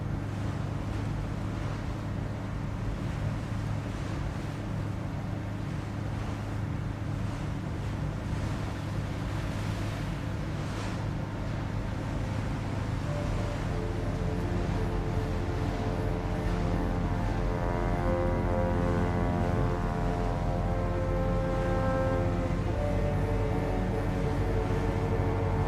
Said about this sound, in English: I might even be one cylinder down on the diesel engine.